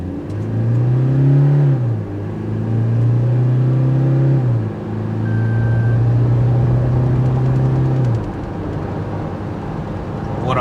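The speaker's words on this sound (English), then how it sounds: "I am now in sport mode and now we are going to accelerate. So you listen to the engine" Toyota Fortuner Legender 4x2 automatic in sport mode accelerating hard, heard from inside the cabin: the engine drone climbs in pitch through rising gear pulls with distinct shift drops, loud and steady throughout.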